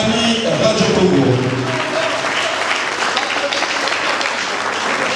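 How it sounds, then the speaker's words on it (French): An audience in a hall breaks into applause after a request from a speaker on a microphone, a dense, sustained clapping that stays loud and steady throughout the clip. "est-ce que nous pouvons quand même applaudir une fois de plus"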